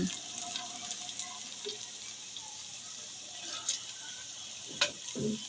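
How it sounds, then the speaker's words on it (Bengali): Chopped onions fry in oil in a pan while cooking tomato chicken biryani, giving a faint, steady sizzle with a few louder stirring scrapes and clinks near the end. "পেঁয়াজটাকে তেলের সাথে একটু ভেজে নিচ্ছি"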